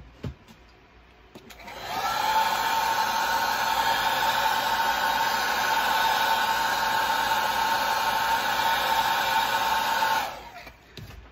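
A heat tool blows a steady, loud whooshing hiss for about eight seconds while heat setting StrawCraw plastic, starting abruptly and cutting off cleanly, with faint handling noises before and after.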